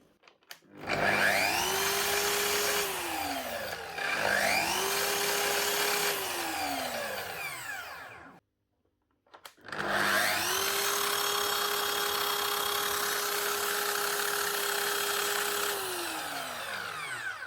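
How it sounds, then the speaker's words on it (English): A Festool KS120EB miter saw, repaired after a burnt-out motor and running against an old gear, spins up three times with a whining rise, holds a rough, gear-laden drone, then winds down, with a short pause between runs. "it does sound a little bit geary. That's because the armature is now meshing against an old gear, so it's going to sound a little bit rough"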